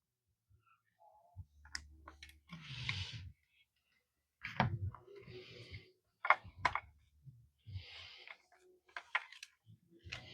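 Wire cutters snip through the bridge ground wire on a Flying V kit guitar during parts removal, giving a few sharp close clicks and snaps amid handling noise, with brief rustling between cuts.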